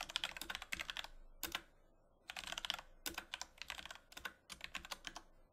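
Keystrokes on a computer keyboard entering a command-line instruction, close and quiet, in quick clattering runs separated by brief pauses, with no voices.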